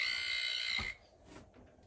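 A loud, steady high-pitched electronic beeping tone from a powered under-cabinet light circuit holds for about a second, then cuts off abruptly as the power goes off, leaving quiet room noise.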